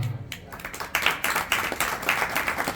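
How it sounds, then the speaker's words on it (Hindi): Audience clapping at a religious discourse, a run of fairly sparse, uneven claps that swells after the first second and continues steadily at moderate volume, with no talk over it. "आप ताली अच्छे से नहीं बजा पाए, मुझे पता है।"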